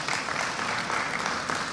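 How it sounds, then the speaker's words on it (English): Applause from a university convocation audience honouring an absent research fellow, a dense steady wash of clapping throughout with no break. "do give her a round of applause"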